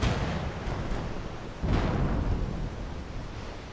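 Dense, rumbling booms of cannon fire roll continuously in a pirate video game, with a heavy blast partway through over a noisy background.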